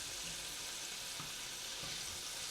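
Food sizzling in a pan, a steady close hiss with faint crackles throughout and no talk.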